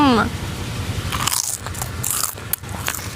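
Close, loud crunching bites and chewing of vegetables or snacks, with sharp crisp bursts repeating irregularly over a couple of seconds, preceded by a brief voice.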